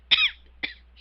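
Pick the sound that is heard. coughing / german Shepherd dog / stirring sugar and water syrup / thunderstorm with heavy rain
coughing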